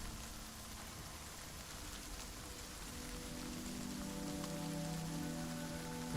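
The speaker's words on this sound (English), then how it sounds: "So it starts pouring rain." Heavy rain pours steadily in the video game Endless Machines, a dense continuous wash of drops on surfaces that holds at a loud, even level throughout with no talking.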